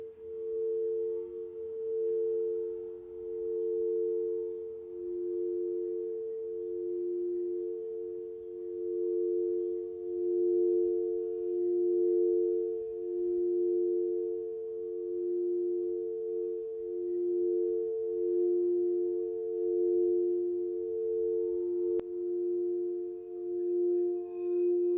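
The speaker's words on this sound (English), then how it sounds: "I was playing my sound bowls, which is something I'm about to do right now" Sound bowls played in a quiet morning room, a steady, pure ringing tone with slow pulsing beats that swells and sustains continuously throughout, with no talking.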